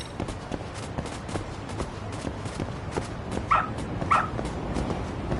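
Two short dog barks from the video game Lost Judgment, fairly close and clear, rising above a steady bed of game background noise.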